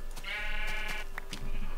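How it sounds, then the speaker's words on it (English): Sheep bleating in the video game Minecraft, a few wavering bleats one after another, near and clear without voices over them. "Sheep."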